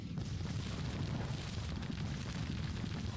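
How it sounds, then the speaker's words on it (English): Artillery fire in the Civil War strategy game Grand Tactician: The Civil War, heard as a steady, heavy low rumble of continuous booming with no distinct separate shots. "They do have artillery in support, so that could be a problem."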